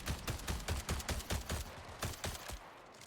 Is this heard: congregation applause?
no